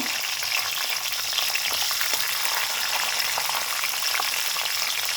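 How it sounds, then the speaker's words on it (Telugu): Garlic frying in hot oil for ridge gourd chutney makes a dense, continuous close sizzle with faint crackles and light stirring throughout, no talking. "వెల్లుల్లి వేస్తున్నాను"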